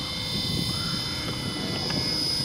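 A Great Planes Piper PA-28 Cherokee model plane flying, a steady high-pitched motor whine droning at a distance, continuous over faint background noise.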